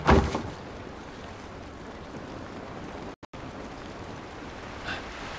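Steady rain hisses down in The Last of Us, a broad, even wash of drops that starts with a brief louder burst and then holds at a moderate level, with a short dropout partway through.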